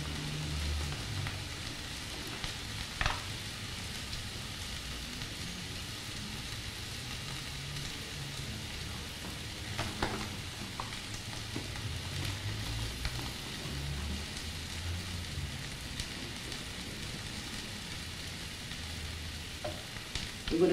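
Food fries in a pan with dried basil and oregano, stirred around in a steady crackling sizzle with occasional sharper taps of the utensil, sustained and close with no talking.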